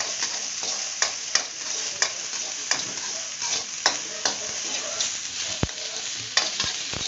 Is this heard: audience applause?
no